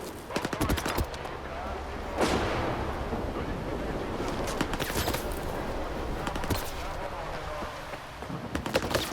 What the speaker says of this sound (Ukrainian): Що він мене стріляє?